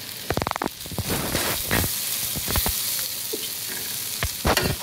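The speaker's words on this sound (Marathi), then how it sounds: "मस्त हे व्यवस्थित परतून घेऊया आपण व्यवस्थित." Dried bombil fish chutney being sautéed and stirred in a pan, with a steady close sizzle and repeated scraping knocks of a spatula against the metal, some in quick bursts.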